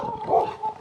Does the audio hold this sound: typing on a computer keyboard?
no